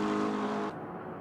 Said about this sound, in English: Coming out of the Mulsanne corner, we have a Coder here with his McLaren